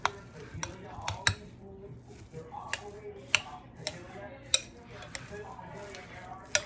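Steak marinade stirred in a bowl, with a spoon repeatedly clinking and scraping against the sides in an irregular rhythm, close and fairly quiet.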